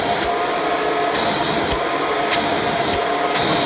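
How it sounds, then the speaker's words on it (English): A Hoover Preferred Elite U5093-940 upright vacuum cleaner runs loud and close, a steady roaring whine of strong airflow with faint periodic clicks, no voices. "vacuum does have excellent suction out of any of the Elites I have because of how much air this thing draws"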